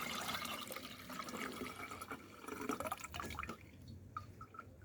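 Coconut jelly water poured through a strainer, a steady splashing, trickling flow up close that thins into scattered drips toward the end.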